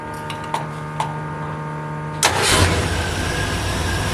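A street car fitted with a race carburetor cranks with a few short clicks, then catches and roars into a loud, steady running engine close by, with no talk over it.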